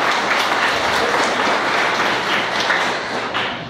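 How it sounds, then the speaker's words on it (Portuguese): A church congregation applauds a friend of the preacher, with loud, continuous, close clapping that holds steady and eases slightly toward the end, with no speech over it. "Pedir mais uma vez um aplauso do meu amigo"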